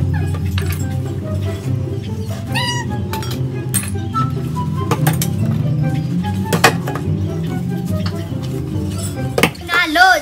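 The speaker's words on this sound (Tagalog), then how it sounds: "So, maghugas tayo ng plato ngayon." Dishes and cutlery being washed at home, plates and utensils clinking and scraping at close range with running movement, and a cat meows at times throughout.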